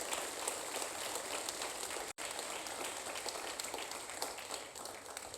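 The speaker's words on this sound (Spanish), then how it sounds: "Suelte el aplauso, no se quede con ganas" A church congregation applauds during a Spanish-language sermon, giving a steady, dense wash of many hands clapping at moderate distance, with a brief break partway through and no talk over it.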